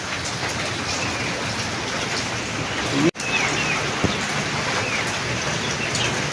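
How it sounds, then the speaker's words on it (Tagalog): Steady rain pattering heavily on a surface, continuous and fairly loud, with one sharp brief crackle partway through. "Ayan o, ulan o."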